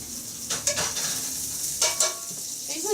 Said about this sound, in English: Those potatoes are browning, and the onions are browning, and the onions are getting crispy